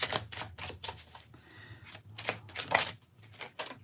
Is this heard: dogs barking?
no